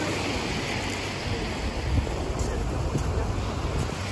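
Continuous wash of ocean waves on the English Channel coast between Eastbourne and Beachy Head, mixed with heavy wind buffeting, loud and steady throughout with no clear breaks.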